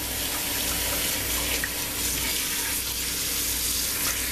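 A kitchen tap pours steadily into a bowl of salted oxtails set to soak, a loud, close, continuous rush of running water with no break and no voices.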